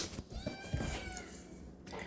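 A house cat gives a short meow close by, with a little household noise around it.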